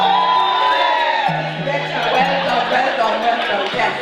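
A crowd aboard a ship nearing Southampton dock cheers with whoops and shouts over constant excited chatter, steady and close throughout.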